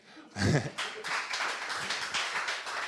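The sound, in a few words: audience applauding in church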